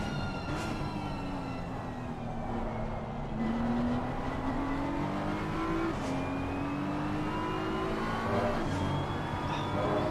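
A BMW race car in the ACC sim racing game at the Hungaroring, its engine a loud, steady drone that climbs in pitch, drops briefly at each gear change and climbs again, with no talking over it.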